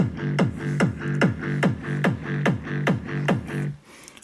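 An EDM kick drum pounds a steady four-on-the-floor beat with a rolling G bass loop pulsing between hits, about ten punchy thumps in a row before stopping, clean and up front.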